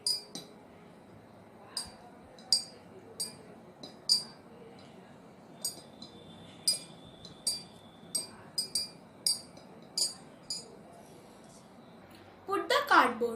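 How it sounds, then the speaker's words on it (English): A spoon stirs food colouring into water in a glass, giving a run of light, regular clinks against the glass about every half second, close and clear, ending in a brief burst of denser rattling. "Now I had added some food color in the glass and I am stirring it."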